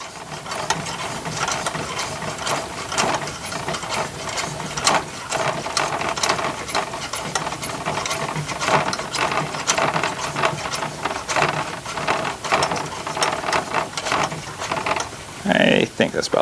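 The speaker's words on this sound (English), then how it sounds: "Now to pump it up, just like the other lantern, you give it 30 pumps." Repeated hand strokes of the pump on the fuel tank of a 1926 Coleman Quicklite lantern, a steady run of about thirty rhythmic mechanical clicks and squeaks, close and fairly loud, with no talking over them.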